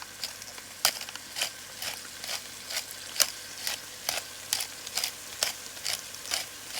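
Chana and balimbi (kamaranga) chutney ingredients stirred in a pan, a spoon scraping in steady repeated strokes, each giving a short bright scrape over a low sizzling background, close and moderately loud.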